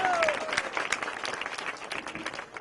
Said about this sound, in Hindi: गोपाल जी ठाकुर जी, भाई महोदय उनको जोरदार ताली से स्वागत कर रहे हैं।